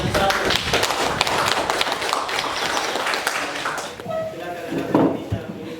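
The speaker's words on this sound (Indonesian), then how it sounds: "Berikan tepuk tangan untuk kelompok 1." Classroom students clap for group 1, a dense burst of many hands tapping unevenly for several seconds, with voices mixed in as the applause thins out toward the end.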